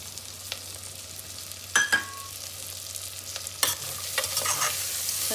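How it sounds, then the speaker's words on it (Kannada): Fresh green peas fry with cumin in a pan, a soft steady sizzle broken by a few sharp scrapes and clinks of a spoon against the metal. "ಚೆನ್ನಾಗಿ ಫ್ರೈ ಮಾಡ್ಕೊಳ್ಳೋಣ ಹಸಿ ಬಟಾಣಿನ"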